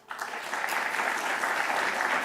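An audience at a talk breaks into steady applause for a professor that starts abruptly and holds at an even level, many hands clapping together.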